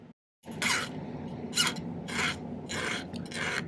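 A small silver piece for a moth pendant is sawn by hand at a jeweller's bench, giving five rhythmic rasping strokes close up, each a short scratchy burst over a low scraping bed, with no talk.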